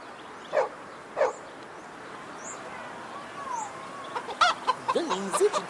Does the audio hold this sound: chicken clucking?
yes